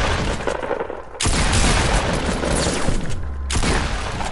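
A pump shotgun firing in a video game: two loud, heavy blasts about two seconds apart, each with a booming report and a short roll of echo, with no talking.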